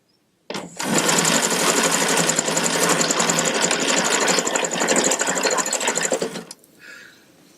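An early Bioscope hand-cranked film camera running, a dense continuous mechanical clatter that starts abruptly, runs steadily for about six seconds close to the microphone, then stops.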